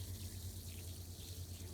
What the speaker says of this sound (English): look at that water go